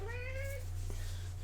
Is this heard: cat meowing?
yes